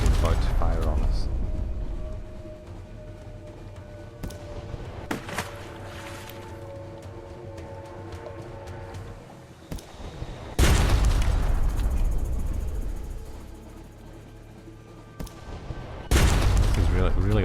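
An enemy ship fires on the player's vessel in Sunless Sea, heavy booming blasts breaking over a low droning game ambience, loud and close, with a person talking through parts of it.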